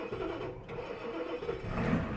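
A 1989 Ford F250 with a 7.3 IDI diesel engine cranks over to start, a steady, close mechanical churn under faint radio sound.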